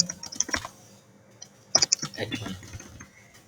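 Typing on a computer keyboard, clusters of close, crisp key clicks with a pause in the middle, then a quicker run of keystrokes.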